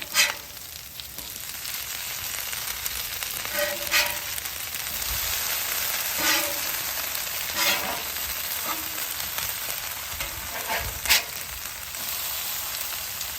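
Hash browns frying on a Traeger Flatrock griddle with butter and avocado oil, a steady close sizzle and crackle with occasional scrape-like bursts, no talking.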